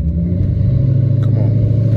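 A catless Dodge Challenger R/T spinning its tires, its engine giving a loud, steady low rumble at close range, with a brief faint high squeal near the middle.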